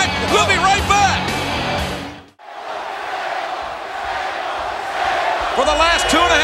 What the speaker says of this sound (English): this capacity crowd here in Waco have been chanting Sable